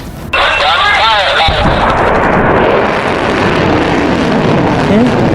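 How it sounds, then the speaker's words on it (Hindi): A sudden, loud nuclear test explosion bursts in and rolls into a sustained, heavy roaring rumble that fills the rest of the moment. "Successfully conducted 5 nuclear tests."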